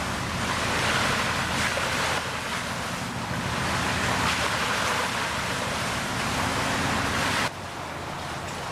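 A ship cruising past on open water heads toward Burlington, its steady low engine rumble blending into continuous wind and surf noise, moderately loud and unbroken, with a slight drop in level near the end.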